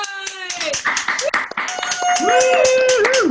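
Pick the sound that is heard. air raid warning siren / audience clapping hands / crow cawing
audience clapping hands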